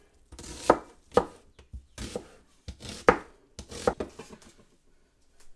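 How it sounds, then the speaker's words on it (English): A knife slices onions thinly on a cutting board, giving about a dozen sharp, close chops in uneven bursts with short rubbing sounds between the strokes. "I'm just cutting my onions in thin slices"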